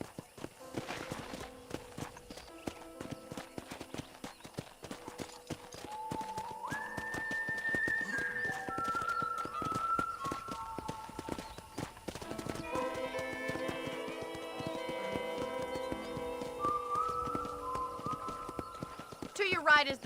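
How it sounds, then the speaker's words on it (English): Hoofbeats of a horse being ridden in Red Dead Redemption on Nintendo Switch, a steady clip-clop under in-game music and character dialogue, with an occasional whinny. "let's see if you can still ride a horse"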